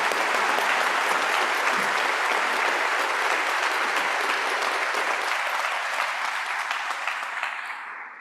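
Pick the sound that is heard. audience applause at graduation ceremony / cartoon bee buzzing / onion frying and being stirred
audience applause at graduation ceremony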